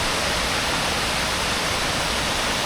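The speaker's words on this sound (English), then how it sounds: "or the waterfall." Waterfall at Reedy Falls Park in downtown Greenville, South Carolina, a dense, steady roar of falling water, loud and unbroken throughout.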